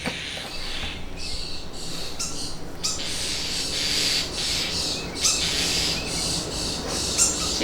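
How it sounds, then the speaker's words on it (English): Shrill, high-pitched chirping from baby birds being fed by a parent bird, repeated in quick overlapping bursts, fairly close, over steady background noise. "the bird is feeding its babies."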